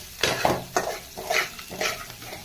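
Chopped large onions fry in a pan and are stirred in several distinct scraping strokes over a continuous close sizzle, with no voices.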